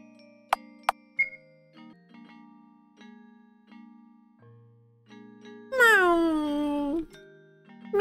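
In the video game Hello Charlotte, a single stretched, falling cat meow rings out clearly near the end, after scattered electronic blips, clicks and low game tones.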